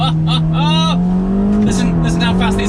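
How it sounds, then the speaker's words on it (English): A Ferrari Roma engine revs hard through quick dual-clutch upshifts, each gear change a sharp break in the rising pitch, loud and close. "listen how fast these upshifts are."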